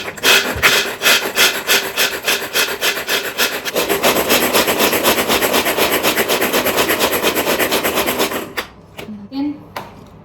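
Food being crushed by hand instead of in a grinder, a loud rhythmic rubbing and grinding scrape repeating steadily for several seconds, then stopping abruptly with a few light knocks and a brief voice afterward.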